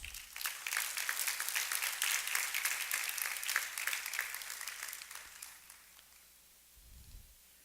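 An audience applauds warmly and steadily for about five seconds. The clapping then fades away, leaving a quiet room with a low hum and a brief soft thump near the end.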